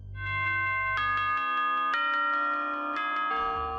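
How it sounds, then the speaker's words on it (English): Grandfather clock chime marking the end of a night in a video game, a sequence of bright bell-like tones struck one after another in a steady melodic pattern, each ringing on and overlapping, clear and close with no talk. "A grandfather clock chiming the same song every time."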